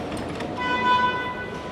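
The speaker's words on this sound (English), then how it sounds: "Ain't honking at me." A vehicle horn honks steadily for about a second somewhere outside, moderately distant, heard over a broadband traffic-like background with no talking.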